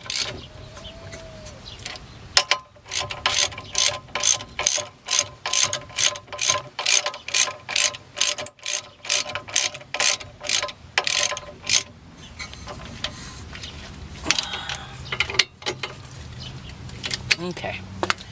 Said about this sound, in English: You tighten them back down.